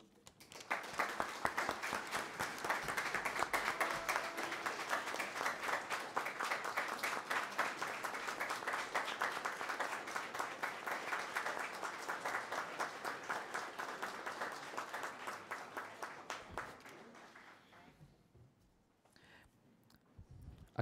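A municipal council audience claps steadily through a formal honorary ceremony, a dense, sustained round of applause that fades out near the end with no talk over it.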